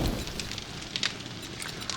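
A campfire crackles steadily in the survival game 7 Days to Die Alpha 13, with a constant hiss and scattered sharp pops across two seconds and no voices.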